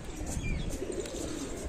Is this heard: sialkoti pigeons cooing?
yes